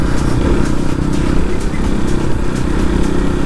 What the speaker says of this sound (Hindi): बहुत लाउड है भाई इसका ये गाना एग्जॉस्ट।